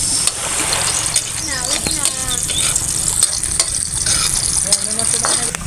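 Garlic and onion frying in cooking oil outdoors, a loud continuous sizzle with scraping stirs and clinks of a utensil, while someone speaks over the cooking.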